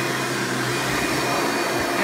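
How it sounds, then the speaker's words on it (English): A Hoover Preferred Elite U5095-930 upright vacuum cleaner runs steadily and loudly at close range, its even motor whine holding without a break from start to finish, with no talking. "the vacuum's propelling itself"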